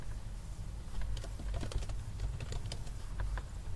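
A run of quick, light keystrokes on a computer keyboard enters a user password during an Ubuntu installation, the clicks coming in uneven bursts over a low background hum.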